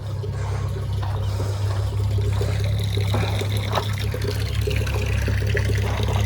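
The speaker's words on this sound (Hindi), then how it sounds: "ये आ गई होदी जिसके अंदर बच्चे पानी शानी पीते हैं, वो भी भरने के लिए लगाई हुई है। तो ये भर रही है" Water runs steadily into a drinking trough for calves on a farm, a continuous close trickling and pouring with a low, even rumble underneath and no voices.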